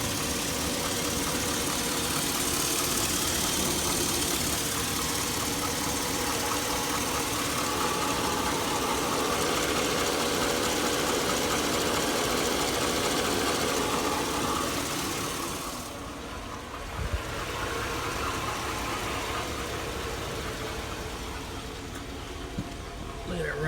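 A 2002 Chevy Avalanche 1500 with a noisy 5.3L V8 runs steadily up close, a dense continuous engine drone with ticking texture that drops slightly near the end.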